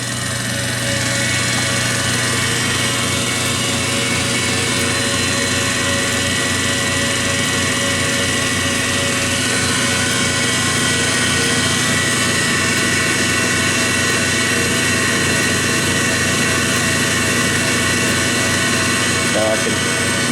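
A 1920s Kwik-Way valve refacer runs steadily as its grinding spindle and work spindle spin, giving a loud, even motor whir and hum that holds without a break.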